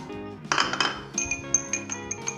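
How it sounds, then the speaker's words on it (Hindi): A spoon stirring sugar and lemon juice into a strawberry-lemon drink, quick bright clinks against the glass in an uneven run, close and clear with no talk. "तो अच्छी तरीके से चीनी को इसमें मिक्स कर लें।"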